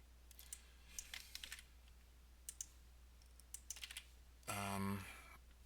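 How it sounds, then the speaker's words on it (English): Scattered clicks of typing on a computer keyboard, quick irregular keystrokes in short bursts with pauses, fairly quiet, ending in a brief louder electronic tone. "Of course you have to type stuff in manually."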